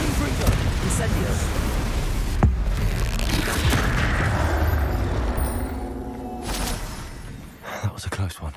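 Spell blasts from Confringo and Incendio explode during combat in Hogwarts Legacy, a dense rumbling roar punctuated by sharp booms, continuous for several seconds and then tapering off, with a voice calling out over the noise.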